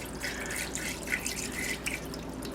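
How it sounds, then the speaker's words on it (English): Filtered water trickles and drips into the reservoir of an electric egg cooker, a thin, fairly close splashing stream with small bright droplet hits, no talking. "We're gonna put some water in here. I'm going to be putting in some filtered water."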